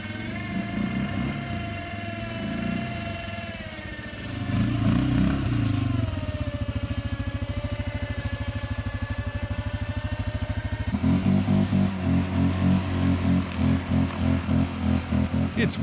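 Loncin X-Wolf 550L ATV engine labouring steadily while its standard winch pulls the quad out of a deep rut, a close, continuous mid-pitched drone that swells in load partway through and again near the end, with no talk.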